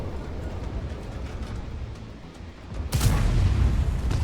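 A sudden loud boom-like gunshot in a video game cuts in over a rumbling background, then a sustained noisy roar follows.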